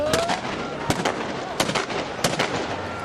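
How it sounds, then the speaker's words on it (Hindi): Police firing guns into the air to scatter protesters in Syria. Three or four sharp, loud cracks come at irregular intervals over a dense, noisy crowd background. "पुलिस प्रदर्शनकारियों को तितर बितर करने के लिए हवा में फायरिंग कर रही है।"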